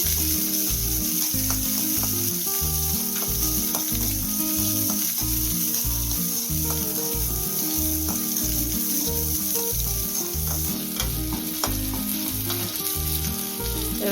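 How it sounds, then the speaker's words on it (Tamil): Whole shallots and garlic cloves sizzle and fry steadily in hot oil in a pan for a fish kulambu, a dense crackling hiss lasting throughout with no talk. "நல்லா வதங்கட்டும்."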